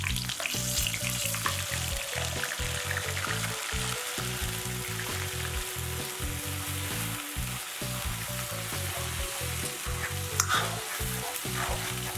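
Onion paste sizzling in hot oil with mustard seeds and green chilli, a steady, dense crackling fry with occasional stirring scrapes, close and continuous, with music playing underneath and no one speaking.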